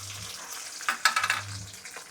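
Brief, quiet sizzling as green chillies drop into hot oil, with a short crackling burst in the middle.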